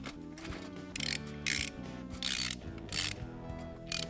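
An oil filter strap wrench is worked on an oil filter, giving a series of sharp ratcheting clicks in regular bursts about every half second, close and clear with no talking.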